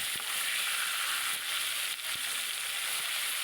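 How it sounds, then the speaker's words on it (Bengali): Koi fish fry in hot oil with a constant, fairly quiet sizzle, broken by a few light scrapes as they are turned and stirred. "মাছগুলোকে এবার একটু নেড়ে নেব"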